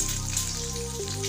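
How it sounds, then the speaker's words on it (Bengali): Potatoes and eggs fry in a pan at home, a soft, close sizzle with faint crackling, steady and quiet with no talking. "এবার আমি এদিকে যে আলুগুলিকে আর ডিমগুলিকে ভেজে নিচ্ছি"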